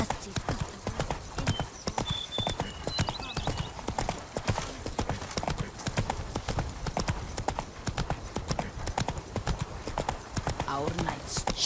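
The horse Roach trots in The Witcher 3, with rapid rhythmic clip-clop hoofbeats running continuously and close, under a voice and ambient game sounds.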